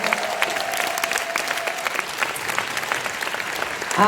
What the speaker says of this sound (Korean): 우리 멋진 강의 해준 리더분들한테 큰 박수 부탁드리겠습니다.